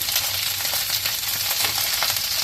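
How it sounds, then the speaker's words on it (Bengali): Chopped onion, green chili slices and broccoli frying in hot oil for vegetable noodles, a loud, dense, steady sizzle with crackling bursts, close up and with no talk. "এখানে আমি এই তেলের মধ্যেই পেঁয়াজ কুচি দিয়ে দিলাম, কাঁচামরিচ ফালি দিয়ে দিলাম ঝালের জন্যে। তো ব্রকলি দিয়ে দিলাম"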